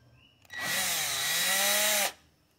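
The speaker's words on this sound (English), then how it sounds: "Drill this out" A power drill whines for about a second and a half as it drills out the broken rivets of a machete handle, a loud, close burst that rises and slightly drops in pitch before stopping abruptly.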